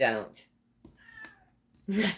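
Sammy, a pet cat, meows briefly in the middle between human speech at the start and end; the cry is fairly faint and short, with a person talking around it.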